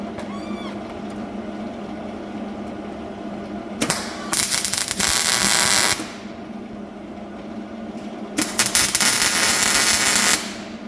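Tack welding on a custom-built driveshaft, with two bursts of crackling, buzzing arc several seconds apart over a steady shop hum.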